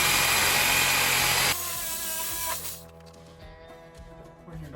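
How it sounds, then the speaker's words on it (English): Sawzall reciprocating saw buzzing loudly as it cuts through an elk leg, a harsh close motor roar that drops off partway through and continues as a quieter, uneven rasp. "I'm going to use my good old Sawzall to get this off."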